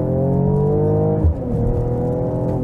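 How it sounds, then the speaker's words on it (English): A performance SUV such as a Mercedes GLE Coupé 53 AMG, BMW X6 M50i, Audi SQ8 or Porsche Cayenne Turbo accelerates hard with its exhaust in the loudest mode, a steady rising engine drone with a brief shift dip midway, heard alone. "we can accelerate once again. Exhaust set to powerful"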